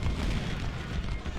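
Cannon and artillery fire rumbles in a Civil War battle game, a dense, continuous roll of deep booms with no gaps, loud and near, heard with no voices.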